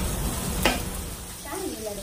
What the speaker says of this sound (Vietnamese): Cá này người ta đã có luộc qua, mình về mình chiên cho nó già lên thôi.